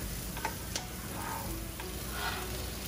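Half a pound of pork with green onions stir-frying in a pan for udon, a constant hissing sizzle with a few faint ticking utensil taps, fairly quiet.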